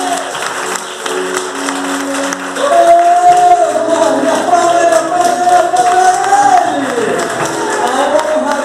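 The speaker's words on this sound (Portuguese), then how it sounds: "Aplauda ao Senhor." A church congregation applauds during a worship service, a steady wash of clapping mixed with sustained tonal singing or music that swells midway and continues to the end.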